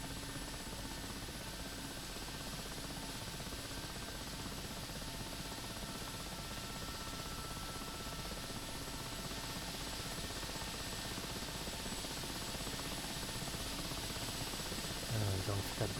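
Steady, loud rotor and turbine drone of a Mi-8 helicopter in the DCS flight simulator, continuous and unchanging from a cockpit perspective, with no talk.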